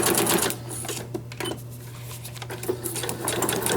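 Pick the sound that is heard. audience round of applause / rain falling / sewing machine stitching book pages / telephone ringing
sewing machine stitching book pages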